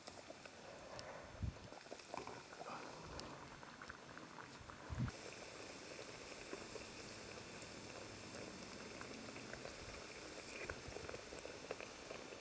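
Batter-coated pieces deep-fry in oil for a chickenless KFC-style fry, a faint, steady bubbling with a couple of soft knocks early on.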